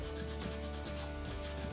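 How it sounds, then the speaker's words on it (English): A painted Shock Trooper helmet coated with liquid latex being rubbed by hand, a soft, steady, close scraping friction with faint rhythmic strokes and no talk. "So we're gonna start rubbing, okay?"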